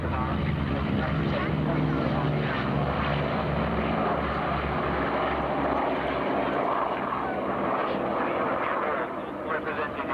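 A P-51 Mustang propeller fighter drones loudly overhead at an air show at RAF Cosford, a steady heavy engine roar throughout, with an announcer's voice over it.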